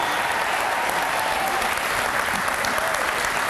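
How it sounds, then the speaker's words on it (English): A large audience claps continuously, a dense, even wash of applause that holds steady throughout without pausing. "Hey, keep clapping."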